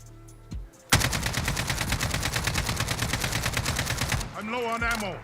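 Sustained automatic fire from an AK-47 with no recoil-increasing attachments in the Modern Warfare video game, a rapid, loud burst of about three seconds with evenly spaced shots, followed by a brief electronic game tone.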